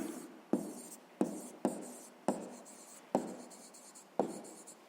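Pen strokes on paper while a math solution for a 6th-grade exercise is written out: six or so distinct scratchy strokes, each a sharp onset fading away, close and quiet with no talk.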